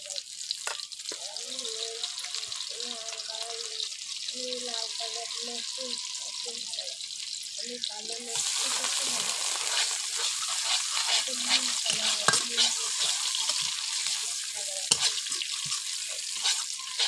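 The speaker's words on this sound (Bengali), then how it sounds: "দিয়ে দেবো হালকা করে পেঁয়াজ কুচি। দিয়ে দেবো এলাচ, হালকা করে এলাচ দিয়ে দেবো তেজপাতা।" Chopped onion fries in oil with cardamom and bay leaf for a curry, giving a steady sizzle. A voice talks over the first half, then the frying grows louder and rougher with scattered stirring scrapes.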